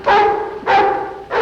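Dogs bark in three loud, close bursts, evenly spaced about half a second apart, with no talk around them.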